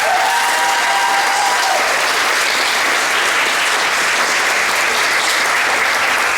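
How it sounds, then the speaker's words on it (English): Steady applause from a large audience honoring the graduating class of 2021 at John F. Kennedy Middle School's moving-up ceremony, dense and even throughout with faint cheering mixed in. "Give them a round of applause if you will."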